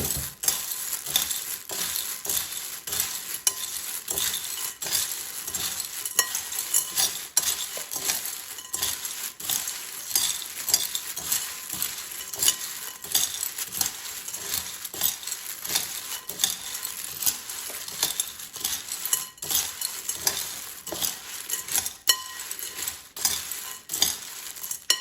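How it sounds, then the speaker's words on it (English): Dry homemade Chex mix pieces rattle and clatter continuously as they are stirred together in a bowl, a busy close-up crunching and tumbling sound with a steady rhythm and no voices. "And now let's just mix everything together."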